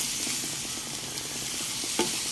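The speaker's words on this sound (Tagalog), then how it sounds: "Ginisa muna natin pala mga kapatid yung bagoong alamang bago natin ilagay yung ampalaya." Shrimp paste (bagoong alamang) sizzling steadily in a pan for sautéing, with a few close stirring scrapes and one brief clink near the end.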